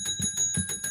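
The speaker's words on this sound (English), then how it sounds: "Ring the bell. Ring the bell." A bright metallic bell rings in quick repeated strikes, loud and close, several rings in under a second.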